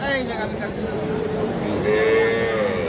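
A cow at a cattle market gives a long, loud, close moo that rises and falls, with a second lowing call following, over crowd murmur and talking.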